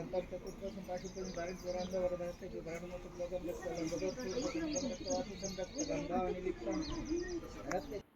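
Birds chirp and tweet through the early-morning background, with a busy mix of calls under steady chanting or music from a religious recitation throughout.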